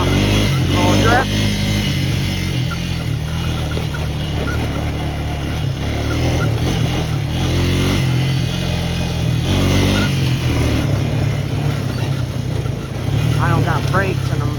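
A mini bike engine runs steadily while being ridden along dirt trails on family property, a continuous loud motor drone with small rises in revs; a person speaks briefly over it.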